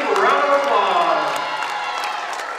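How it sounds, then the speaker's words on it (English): Crowd noise from spectators at a high school boys basketball senior night, steady and fairly loud throughout, with applause and cheering for the seniors and their parents. "One big round of applause."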